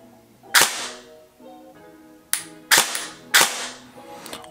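Airsoft Bolt MP5-SD6 (MP5 SWAT SD) rifle fired in semi-auto: four sharp, loud single shots, the first alone and the last three in a quicker group, each with a short ring-out over a faint hum.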